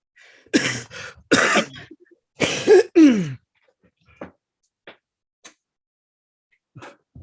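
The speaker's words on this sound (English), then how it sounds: "I have to keep like a bucket around so I cough so much" A series of harsh, close coughs and throat clearings in quick bursts, followed by quieter scattered clicks and small noises.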